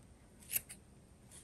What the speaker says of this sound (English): then I just cut all of my loops.